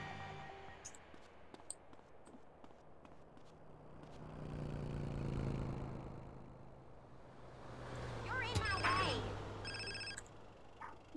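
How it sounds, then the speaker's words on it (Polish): A telephone rings in GTA San Andreas, a faint repeating electronic ring over car and street noise, with speech throughout. "i kolejny telefon"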